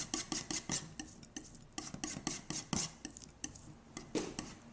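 Palette knife mixing white paint into a red-green mix on a palette, a quiet series of rhythmic tapping and scraping strokes, close up and faint, with no voices.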